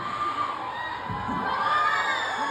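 Concert crowd at a show in New York cheering and screaming continuously, a dense wash of high-pitched shouts heard from within the audience.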